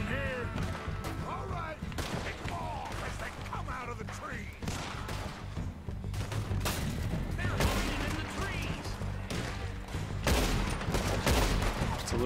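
Repeated gunfire from a Red Dead Redemption 2 shootout, loud bursts and volleys scattered through the clip over a dense layer of game music and ambience, with some voices mixed in.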